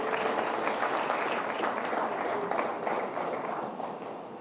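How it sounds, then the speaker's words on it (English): Sustained applause from a large audience at an India Today Group event, a dense, even wash of clapping that holds steady and then fades gently toward the end. "Please give him a round of applause."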